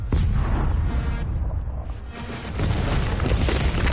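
A cannon fires in Doom Eternal, a loud, sustained deep boom and rumble that swells again toward the end, close and dominant.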